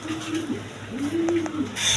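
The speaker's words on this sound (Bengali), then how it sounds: "তারপর এখানে রেড কালার লাহোরি কবুতর আছে, একদম বিগ সাইজের দেখার মতো কবুতর" Red Lahori pigeons, big-sized birds, give low soft coos with a steady hum, close by and moderately loud, alongside faint background noise and a brief higher chirp near the end.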